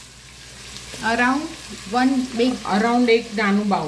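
Green garlic fries in hot oil seasoned with asafoetida and ajwain, giving a steady hissing sizzle. A voice talks over the frying for most of the moment.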